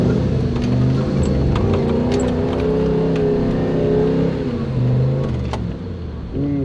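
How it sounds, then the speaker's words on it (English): Toyota BJ40 Land Cruiser fitted with a 1UZ engine and manual gearbox crawling off-road in low range, its engine droning loud and steady with slight rises in revs throughout, close up. "Are we shifting into forward drive, into low box?"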